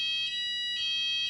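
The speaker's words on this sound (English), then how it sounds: "This is a test alarm, so you no need to be alarmed." A test fire alarm rings in a council meeting room, a shrill electronic tone pulsing in bursts about every half second, steady and moderately loud with no voices.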